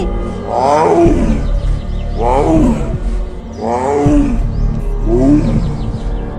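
A cartoon tiger running past lets out four loud, close roars, evenly spaced, each a rising then falling snarling growl.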